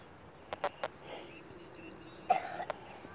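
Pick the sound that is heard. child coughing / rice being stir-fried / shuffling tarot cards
child coughing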